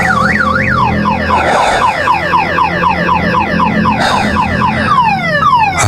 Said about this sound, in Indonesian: mendengar suara alarm mobil ini menyala sendiri